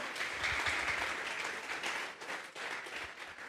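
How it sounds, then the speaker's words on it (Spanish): A church congregation at a Sunday service claps together as an offering of praise, a dense, fairly faint wash of clapping heard from a distance in a reverberant hall. "Vamos a regalarle ofrenda de palmas al Dios de la gloria"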